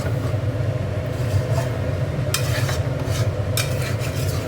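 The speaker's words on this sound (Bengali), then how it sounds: "আলুটা দিয়ে মাংসটা একটু কষে নিই।" Chicken and potatoes stir-fry in a pan with very little oil. A dense, steady sizzle runs throughout, and a utensil gives a few brief scraping strokes against the pan, close up, with no voices.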